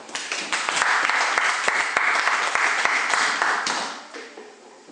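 A church congregation breaks into loud applause during a sermon. The dense, sustained clapping swells quickly, holds for several seconds and then fades toward the end.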